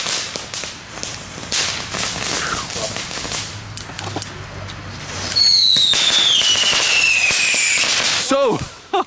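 Fireworks going off in Delft: sharp crackling bangs and pops, then a rising whistling rocket whine and a louder burst near the end, with voices talking around the explosions outdoors.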